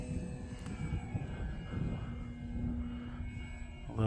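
Arrows Husky Ultimate RC airplane climbing and rolling overhead, a steady high motor whine with a constant tone, moderately close and continuous, with a louder rise in the last moment.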